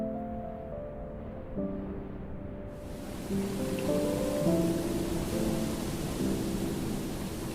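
Steady rain falling in a misty wild landscape, a soft broadband hiss that grows fuller partway through, with sustained musical tones underneath.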